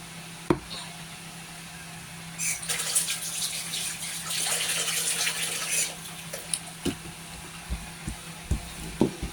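Water running from a tap in a home kitchen, a soft hiss that swells for a few seconds and then stops, followed by scattered light knocks and clatters, faint and close.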